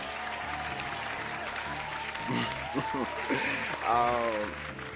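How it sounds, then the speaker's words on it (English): Podcast applause sound effect with a steady wash of crowd clapping throughout, while someone talks over it in the middle and end. "I know I hit you with applause already, brother, but I got one more for you"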